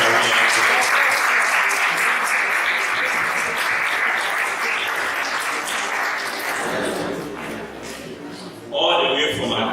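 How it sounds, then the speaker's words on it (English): Loud, sustained applause from a congress audience in Belgorod welcoming a professor to the stage, continuous clapping that swells again near the end, with voices mixed in. "With a round of applause, let's welcome Mr."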